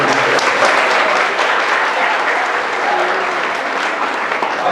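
At a high school fall sports banquet, the crowd gives the kitchen staff a round of applause for the meal. The clapping is loud, dense and sustained, close and continuous, with no break.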